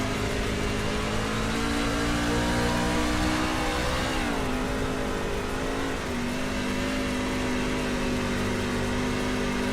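A racing truck's engine drones loudly and continuously on Bristol dirt in a racing video game. Its pitch dips midway as the throttle eases, then settles back into a steady, smooth roar under a hiss of track noise.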